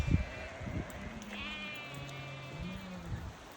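Sheep bleat near their enclosure by a stream, several wavering calls overlapping one after another at close range, with soft shuffling of the flock beneath.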